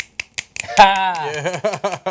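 A scattering of audience finger snaps used as applause at a political talk, a few crisp separate snaps before someone speaks over the last of them.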